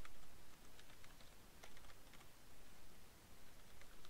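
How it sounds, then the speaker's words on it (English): Someone types on a new computer keyboard, a continuous faint patter of key clicks in an irregular rhythm, heard close over a low hiss with no talking. "Apologize for my terrible typing. I got a new keyboard and still haven't gotten used to it."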